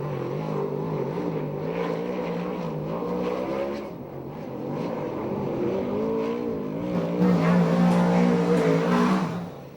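Sprint car racing a lap at Ventura Raceway, its engine roaring and revving continuously, rising and falling in pitch and swelling louder near the end as it passes close by.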